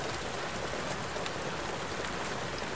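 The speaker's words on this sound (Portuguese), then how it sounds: "Tá tendo barulho de chuva, pode ser meu microfone, hein?" Steady rain patters in a dense, even hiss picked up over a microphone, constant for about three seconds with no voices or other sounds.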